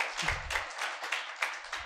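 A short burst of applause from a crowd, scattered claps rising and falling over about two seconds.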